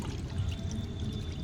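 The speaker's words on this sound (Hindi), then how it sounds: "इसको हम पौधे में डालेंगे, जड़ों में, मिट्टी में डालना है" Liquid fertilizer pours steadily from a mug into the soil around the roots of a potted chrysanthemum, a continuous close splashing pour with no break across the short stretch.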